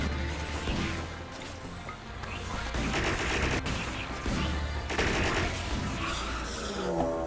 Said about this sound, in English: Now, continue shooting.